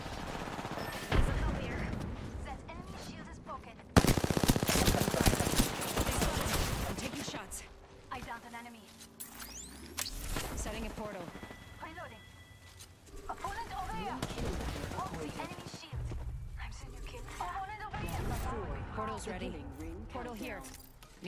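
Gunfire in an Apex Legends match, rapid automatic bursts and single shots, some loud and near, some distant, with a player talking over the action.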